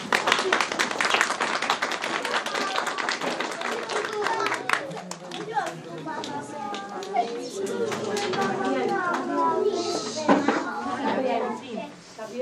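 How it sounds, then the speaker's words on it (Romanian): An audience claps briskly and densely for children at a kindergarten Christmas show, then fades into children's voices and group chatter. "Puneați să ne încurajați cu aplauze."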